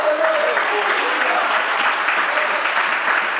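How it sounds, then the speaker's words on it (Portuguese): Church congregation applauding loudly and continuously during a sermon, a dense, even wash of clapping filling the whole short stretch with no break. "Se você pode, aplaude a Jesus."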